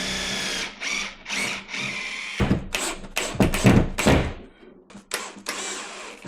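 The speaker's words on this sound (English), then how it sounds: "Got the drill bit. I'm on the edge of here, and I'm gonna go ahead and put a hole." Power drill boring a hole for a Wallmaster ceiling bike mount, several loud bursts of whirring with brief pauses between them, close by and with no talk.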